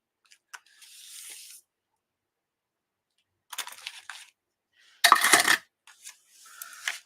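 Scissors cut a sheet of old K & Company craft paper, giving a few short, close rasping snips and paper rustles separated by quiet gaps, with one louder crisp cut near the end and no voices.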